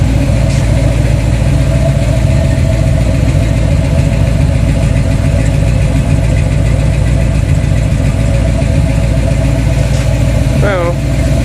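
A $200 small-block Chevy 350 V8 swapped into a 1987 Dodge Dakota idles steadily and loud up close, a continuous low rumble throughout, with a brief rising whine near the end; no one talks over it.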